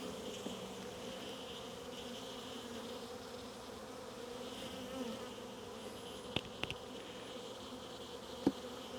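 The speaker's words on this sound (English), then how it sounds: "that's a weird rattle noise when the bees bother the camera or the microphone" Honeybees from a strong hive buzz steadily around an open hive during the first spring inspection, a dense continuous hum with a few sharp rattling clicks as bees strike the camera microphone near the end.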